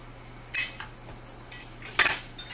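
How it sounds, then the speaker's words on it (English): Knife cutting smoked sausage in a pan for scrambled eggs with pokeweed greens: two sharp metallic clinks of blade on pan, with soft scraping between, fairly close and alone. "I got some smoked sausage. I'm gonna cut that up in there."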